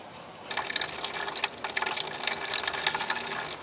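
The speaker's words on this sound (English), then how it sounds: "Now drain as much engine coolant as possible by opening and closing the drain valve as needed to fill the open container." Engine coolant gushes from a radiator drain valve into an open container, a steady close splashing pour of liquid that starts abruptly and continues without pause.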